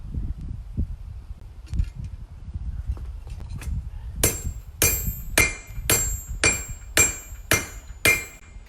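Hot metal struck on a Holland anvil at a coal forge: after a stretch of quiet shuffling, a run of eight sharp, ringing hammer blows lands at a steady, roughly half-second pace, close and bright.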